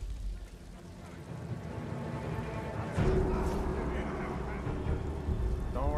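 Steady rain falling in the video game Ghost of Tsushima, a continuous broadband hiss that swells and grows louder partway through, with wind-like noise mixed in.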